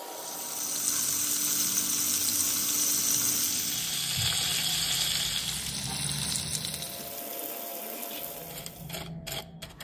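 Crispy breaded shrimp sizzle in hot oil, a dense steady hiss of frying that holds loud and close throughout, with faint bubbling under it and a brief clatter at the end.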